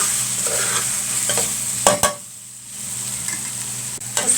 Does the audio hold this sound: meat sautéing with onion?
yes